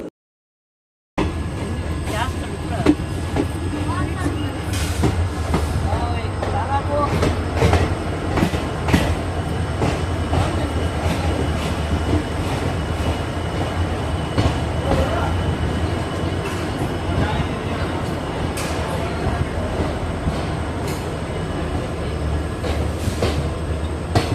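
A train on the Hubli to Goa route rumbles steadily along the rails with rhythmic clatter and occasional high squeals, continuous and fairly loud after a brief silent start.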